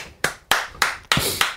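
Five sharp hand claps spaced roughly a third of a second apart, loud and close, with no talking in between.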